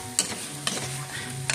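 Potatoes and carrots being stirred into menudo in a pan: steady frying sizzle with a few sharp spoon scrapes and clacks against the pan, close and fairly quiet.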